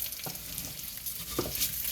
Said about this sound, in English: You're going to hear the oil.